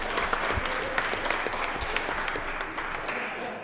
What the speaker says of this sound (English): Could we get a round of applause for Prometheus with a really better late than never strategy?